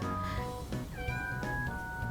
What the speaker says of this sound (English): That's my cat Rocket, aka Sprigatito.